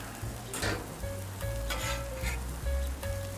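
A burger patty sizzles on a Camp Chef griddle, a steady close frying hiss with scraping spatula strokes and a few light metallic clinks.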